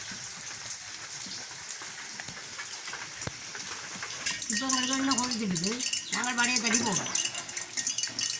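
Steady rain pours down on a village in the Vanni region, a dense continuous hiss with scattered drips, while voices talk over it in the second half.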